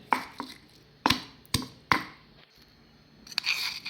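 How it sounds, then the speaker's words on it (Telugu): Garlic cloves being coarsely pounded in a mortar for tomato rasam: a series of sharp, close thuds in an uneven rhythm, about five strong strikes with a few lighter knocks between them, then a rattling scrape at the end. "తెల్లగడ్డలు వేసిన తర్వాత ఇలా ఇలా కచ్చాపచ్చా దంచుకోవాలి"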